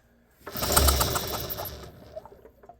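A 1986 Honda TRX70 ATV engine is pulled over by its starter, giving a brief loud whirring crank with a rapid mechanical rattle that fades into light clicks and handling noise.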